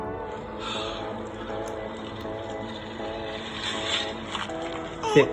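Movie audio playing through the single speaker of an iPhone 6s: music and speech with a thin, boxy tone, steady and moderately loud throughout.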